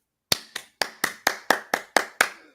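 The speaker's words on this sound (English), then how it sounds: "claps" Nine sharp hand claps in a steady, fairly quick rhythm, close and loud against silence, with no voices.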